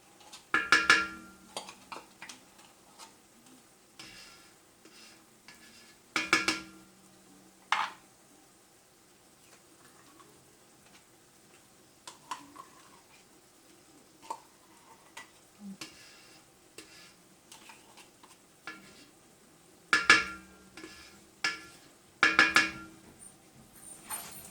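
Tomato paste cooking in a pot and being stirred, quiet sizzling with scattered utensil clicks and a few louder bursts of scraping against the pot, close up, no talking.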